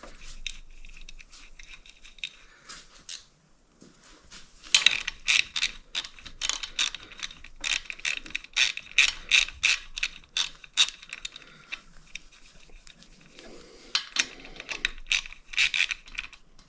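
Rapid ratchet clicks in bursts as bolts are tightened on a Harley-Davidson Road King cam chest during reassembly, close and crisp, with short pauses between runs of clicks and no voices.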